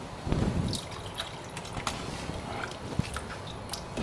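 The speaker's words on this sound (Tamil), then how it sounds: "ஸோ தண்ணி இன்னும் சேர்க்கணுங்க." Water is poured into butter bean gravy in a cooking pot, giving a faint, close trickle and soft splashing with a few light clinks scattered through.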